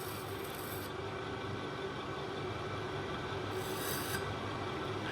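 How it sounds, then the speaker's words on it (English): A burr is ground off a piston ring for a 408 Mopar stroker engine, giving a faint, steady raspy scraping that runs continuously and alone. "Making any burr that I feel, I'm just gonna grind off really quick."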